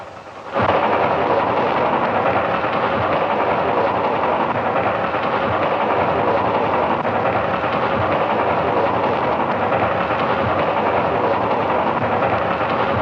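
A steam train draws near on a 1955 Western frontier line, a loud, steady rumbling roar that swells in the first second and then holds constant and full for the rest of the stretch, with no voices over it.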